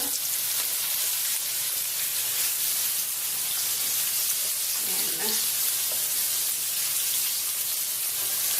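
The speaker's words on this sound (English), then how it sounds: "I don't want it to cook too long, I just want it to get a little color, maybe like a minute on each side" Rainbow trout searing in a hot pan gives a steady, close broadband sizzle that runs unbroken throughout, with a faint scrape or stir near the middle.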